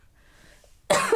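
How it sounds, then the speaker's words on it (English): A single loud cough bursts out near the end after a quiet, near-silent stretch, close to the mic in an indoor podcast recording. "I'm gonna cough."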